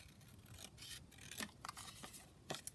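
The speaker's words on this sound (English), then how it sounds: "I'm just going to, again, just cut that down" Scissors snip through a small scrap of green paper for a junk journal, with soft rubbing and several quiet, close cuts, the last two a little sharper.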